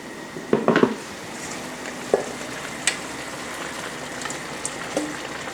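Shrimp for scampi pasta are added to a pan of simmering liquid, with a soft steady bubbling hiss broken by a few close splashes and clinks as they go in.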